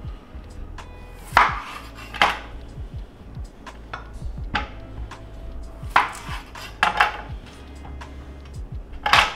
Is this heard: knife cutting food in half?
yes